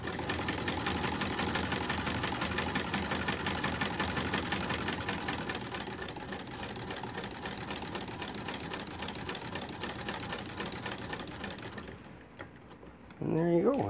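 A Singer Model 28 hand-crank sewing machine, built partly with parts from a 1936 Model 128, runs steadily with a dense rhythmic clatter for about twelve seconds, then stops before a voice begins speaking.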